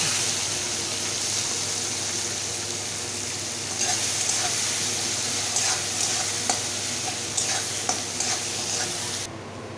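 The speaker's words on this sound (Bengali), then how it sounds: "পেঁয়াজটা এই যে পেঁয়াজটা ভাজা হয়ে গেছে" Onions fry in hot oil with shahi jeera for egg biryani, giving a continuous loud sizzle broken by the scraping clicks of a spatula stirring the pan, until the sound cuts off abruptly at the end.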